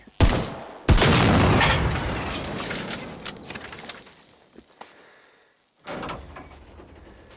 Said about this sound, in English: I've been hearing some weird gunshots in the distance.